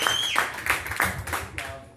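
An audience at a speech gives a few scattered, sharp claps in an uneven rhythm, thin rather than a full ovation, with faint voice traces beneath.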